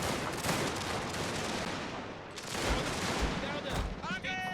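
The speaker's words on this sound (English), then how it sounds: "Point blank range, firing straight into each other here." Massed troops firing at each other at point blank range in a Prussian-era strategy battle, a loud, continuous crackle of musketry and rolling volleys with a voice speaking over it.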